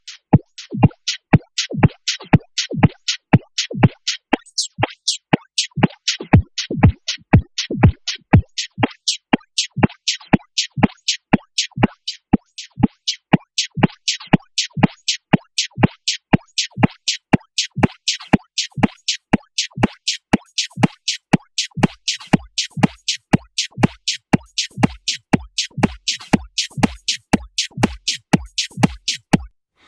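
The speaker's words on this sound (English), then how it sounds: "You can hear that what the Spectral Gate is doing is effectively creating this incredibly sort of resonant band of frequencies" A beat loop run through the Spectral Gate effect in Logic Pro X, producing a steady stream of sharp, resonant plucked hits in a fast even rhythm that grows brighter and busier toward the end.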